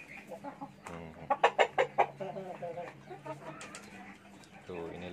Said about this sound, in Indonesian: Ini diisi dengan 4 ekor ayam itu teman.